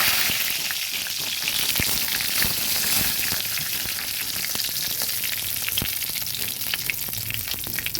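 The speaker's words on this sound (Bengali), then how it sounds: "তেল গরম হয়ে গেছে দিয়ে দিলাম একটা শুকনো লঙ্কা কুচকে ছিঁড়ে দিয়ে দিলাম তেজপাতা" Dried red chilli and bay leaf crackle in hot oil, a steady hiss with scattered pops and spits, moderately loud and close, with no voices.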